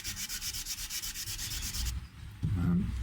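Rhythmic back-and-forth wet sanding of clear coat, about a dozen quick strokes, then it stops and a lower scraping noise follows.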